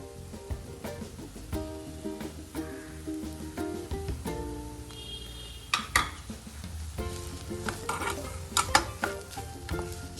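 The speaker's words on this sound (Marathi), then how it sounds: "ह्यामध्ये आपण पनीर खिसलेलं आहे ते घालून घेऊया" Grated paneer gets stirred into a potato stuffing in a pan, giving a faint sizzle under repeated spatula scrapes and taps on the metal, with music playing softly behind.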